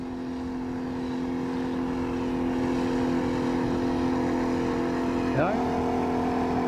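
A 1987 40 hp Johnson outboard motor runs on a boat with the motor tilted all the way down, giving a steady, droning hum at constant throttle, moderately loud, with a brief pitch sweep near the end.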